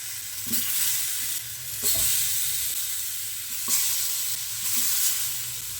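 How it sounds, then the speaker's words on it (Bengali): Tomatoes set on a preheated, lightly oil-brushed pan to roast for chutney, a soft continuous sizzle with a few scraping clatters and brief bursts, close and steady, no voices. "একটু তেল ব্রাশ করে দিলাম সামান্য এবারে টমেটোগুলো এটার উপরে বসিয়ে দিই"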